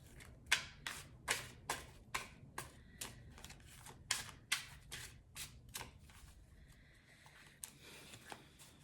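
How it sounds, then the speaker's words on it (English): A deck of tarot cards being shuffled, a steady run of about a dozen crisp riffling bursts, close and fairly quiet, then softer handling. "You literally saw me shuffle that deck a bunch of times and cut the deck"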